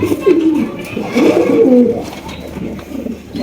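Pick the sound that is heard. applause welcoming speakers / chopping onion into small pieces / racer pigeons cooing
racer pigeons cooing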